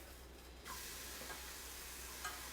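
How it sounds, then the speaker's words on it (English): A keto tortilla frying in a pan is flipped, giving a soft steady sizzle and hiss close by, with a brief turning sound at the start and a small tap near the end. "let's flip this tortilla over"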